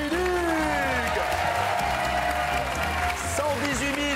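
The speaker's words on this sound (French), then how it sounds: "On peut l'applaudir, en tout cas, elle était parfaite." A television game-show studio audience applauds a contestant, with a dense wash of clapping running steadily under loud show music and a voice.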